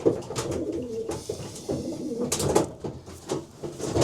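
Several racing pigeons in a basket coo continuously at close range, their soft, throaty calls overlapping in a busy, restless chorus.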